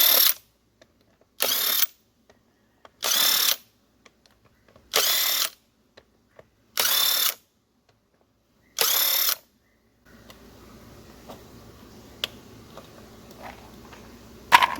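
Neiko 1/2-inch cordless impact wrench taking a lug nut off a Chevrolet Silverado: six loud, evenly spaced bursts of rattling hammering, each about half a second long and separated by silence, then a quiet stretch of faint background noise.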